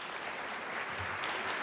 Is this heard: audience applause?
yes